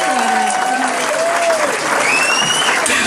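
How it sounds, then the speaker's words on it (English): Comedy-show audience applauding a stand-up set, a thick steady wash of clapping with a voice talking over it. "Another big round of applause."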